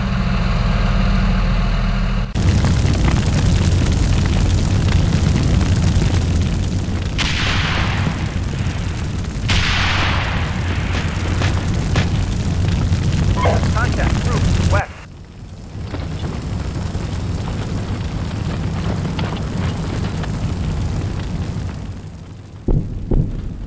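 In the tank simulator Steel Beasts Pro PE, incoming fire lands as heavy booms over a constant engine rumble, with a deep idling drone underneath and radio voices talking at times.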